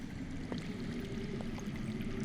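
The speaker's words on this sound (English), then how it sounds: "That's water. I hear water. From underground." Underground water flowing in a Game of Thrones video game scene, a steady low rushing wash with faint trickles on top, continuous and moderately quiet, with no talk.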